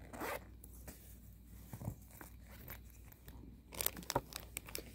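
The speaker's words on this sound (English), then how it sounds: "Come in this nice zippered pouch." A zipper on a sturdy zippered pouch holding knitting needle sets runs in several quick, close rasping pulls, with crinkling and rustling of fabric between them.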